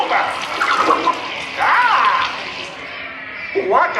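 Water sprays and splashes over the audience in a Muppets 3D attraction, coming in loud rushing bursts with a squealing effect, while voices talk over the effects.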